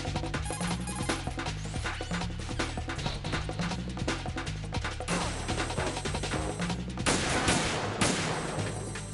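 Metal Gear Solid 2 game audio with a PSG-1 sniper rifle: loud, dense gunfire sounds over a constant layer of game music and effects, with a harsher crash near the end and no voices.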